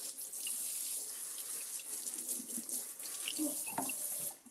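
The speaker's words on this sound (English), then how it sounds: "And I need to wash the skillet as well." A kitchen faucet runs steadily into a sink while a skillet is washed, a close, even rush of water broken by a few soft clinks and splashes, with no talking, before the flow cuts off at the end.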